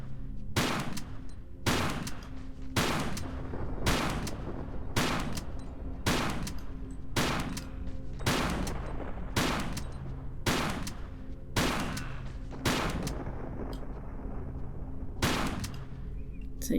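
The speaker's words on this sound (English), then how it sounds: "I'm gonna just equip my shotgun, get some use out of that" Repeated shotgun blasts ring out in a Tomb Raider level, about fourteen loud, evenly spaced booms roughly one second apart, each a sharp broadband crack with a short tail, with no talking.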